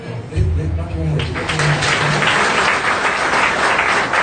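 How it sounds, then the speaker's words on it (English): An audience claps hands together in a burst of loud, dense applause that starts after a brief voice and continues steadily to the end. "Let clap your hands"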